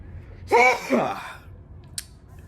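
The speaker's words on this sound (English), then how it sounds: "I want to sneeze so bad, allergies are killing me." One sudden, close sneeze bursts out and trails off, followed by near silence and a faint click.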